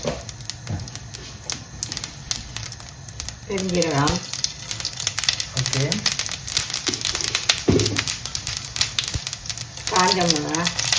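Mustard seeds crackle and pop in hot oil in a home kitchen while a Sri Lankan style crab varai is being cooked, with dense irregular crackling throughout and voices talking over it now and then.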